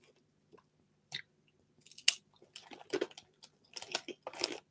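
Crunchy oatcakes being chewed close up, a series of brittle crunches and bites starting sparse and growing denser, with quiet pauses between them.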